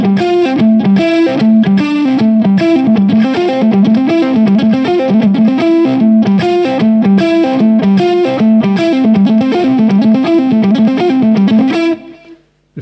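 Distorted electric guitar plays a shuffle lick, a fast, unbroken run of palm-muted chugging notes with driving rhythm, loud and close, ending in a brief fade.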